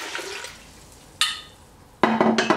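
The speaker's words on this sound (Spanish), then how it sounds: "Ahora voy a agregar agua." Water poured from a tap into a cooking pot holding Peruvian and white beans, a faint trickle at first followed by two louder gushing splashes near the end, with no talk.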